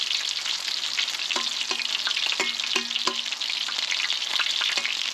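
Coconut shrimp frying in oil on a FireDisc cooker, a steady dense sizzle throughout with a few sharp clicks and pops breaking through near the middle, no voices.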